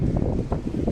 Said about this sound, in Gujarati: અને અત્યારે પવન પણ બહુ છે,